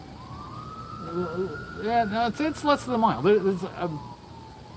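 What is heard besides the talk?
ambulance sirens from nearby hospital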